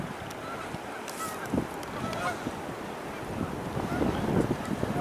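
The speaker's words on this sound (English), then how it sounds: "Here's her gander." Honking from a goose gander out of doors, several calls breaking through steady wind and surf-like noise at moderate distance, with no talk.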